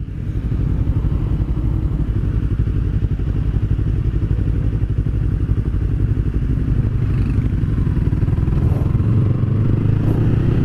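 Yamaha R15 V3 and R25 motorcycles ride together on a road trip, their engines droning loud and steady with wind and road rumble throughout, no talking.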